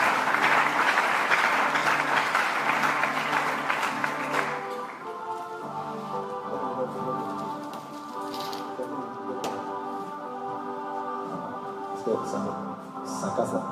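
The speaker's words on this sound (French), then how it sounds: "Est-ce qu'on peut acclamer très fort pour la parole de Dieu?" A church congregation applauds loudly and densely for several seconds, then the clapping thins and fades under sustained keyboard chords that carry on alone.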